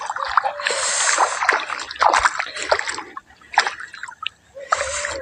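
Water splashes and sloshes as muddy feet are washed outdoors in a village vegetable field, with bursts of splashing broken by brief pauses, loud and close with no speech.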